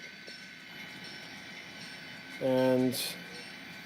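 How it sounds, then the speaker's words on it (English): A coal train runs along a railroad with a faint, steady rumble and a constant hum in the background, and a person speaks briefly partway through. "Here comes the coal train again."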